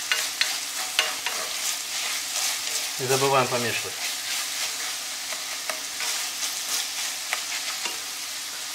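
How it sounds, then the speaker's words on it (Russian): Minced meat and onion sizzle steadily in a frying pan while a utensil scrapes and stirs in uneven strokes, with a brief spoken remark partway through. "Но пока фарш у нас с луком жарится"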